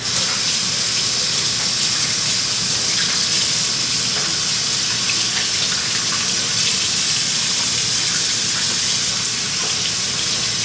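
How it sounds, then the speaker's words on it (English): Seafood rinsed under a running kitchen tap: a steady, close, continuous rush and splash of water that holds evenly throughout, with no talking. "let me rinse these off real quick"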